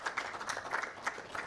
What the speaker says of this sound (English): Another round of applause to Commissioner Medi Mulumba.